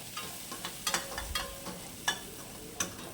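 Grated coconut and lentils frying in ghee for a sweet dish, with a soft, quiet sizzle broken by a few sharp spoon taps and scrapes against the pan.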